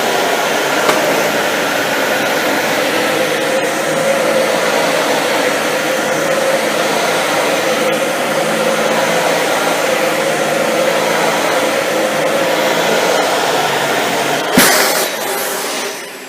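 A Dyson Ball Multi Floor 2 upright vacuum cleaner runs on carpet with its brush roll spinning, a loud steady whirring roar throughout, ending with a sharp knock.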